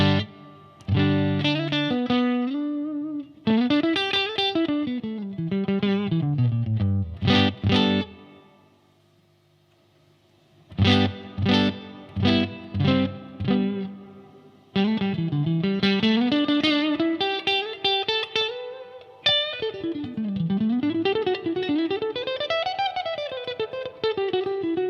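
Electric guitar played through a Marshall DSL20HR amplifier with reverb, distorted chords and sliding riffs ringing out in bursts separated by short pauses and one longer silence, with no talking.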